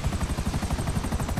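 A helicopter in a video game, its rotor beating in a fast, steady pulse that stays loud and close for the whole stretch, with a droning hum underneath.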